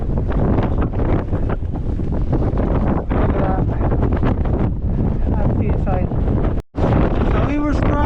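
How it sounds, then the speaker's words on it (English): Strong gusts roar across the mic on the Y Lliwedd mountain ridge with heavy, continuous buffeting that drops out only for a split second, and people talk now and then under the wind. "It's windier than Wednesday."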